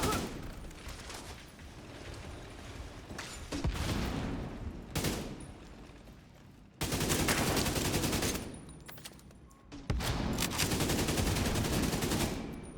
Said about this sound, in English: Man, that AK reload.